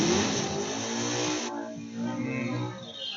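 A drag race car launches hard down the Napa lane at a raceway, a loud, dense engine roar sustained throughout, shifting and fading slightly halfway as it pulls away.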